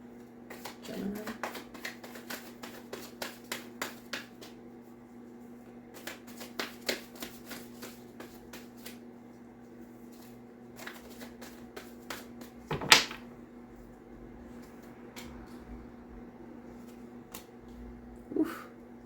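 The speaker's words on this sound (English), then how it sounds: "So I'm just going to pull all the cards out" Tarot cards are pulled from a deck one after another, giving soft, quick papery flicks and taps over a steady low hum, with a sharper knock partway through.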